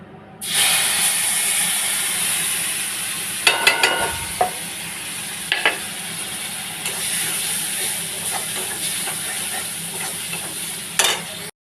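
Spice paste mixed with water and salt hits a hot pan and sizzles loudly and steadily, with a few sharper stirring scrapes and spatters over a continuous bright hiss.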